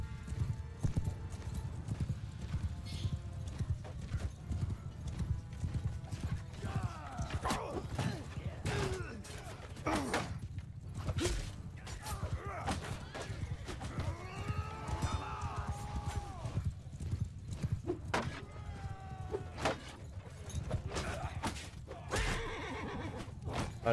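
In the video game Mount & Blade II: Bannerlord, horse hooves clip-clop in a busy, irregular rhythm amid a battle, with several whinnies and neighs, creaks and thuds mixed in at moderate loudness.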